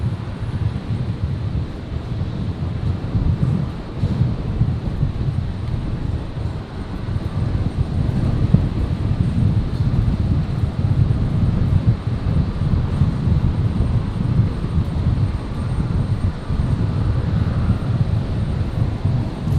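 Engine noise from a Cessna Citation business jet at Brisbane International Airport, a steady close roar with a low rumble and some wind buffeting that lasts the whole stretch.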